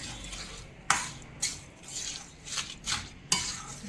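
Jaggery being stirred into hot flour in a pan for katlu paak, with a spoon scraping and tapping the pan in uneven close strokes and a few sharper knocks, fairly quiet.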